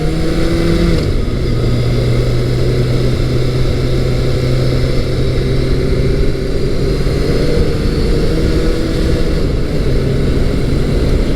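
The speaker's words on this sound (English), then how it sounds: "Shifts down through the gears nicely." Kawasaki ZZR1200 motorcycle riding as it shifts down through the gears, a loud steady engine drone with wind rush and stepped changes in pitch, heard close and alone.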